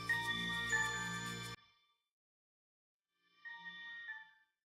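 A phone rings with a melodic electronic ringtone and goes unanswered, playing loudly for about a second and a half, cutting off, then returning softer after a pause, with no voices.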